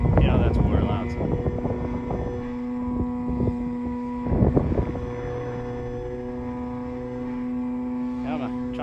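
An RC 3D foam airplane climbing overhead gives off a steady, buzzing propeller drone that stays at a moderate distance, with wind rumble on the microphone and some muffled voices in the background.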